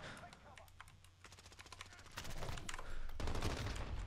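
Rapid automatic gunfire in Modern Warfare, bursts of closely spaced shots that grow louder and denser toward the end, with someone talking over them.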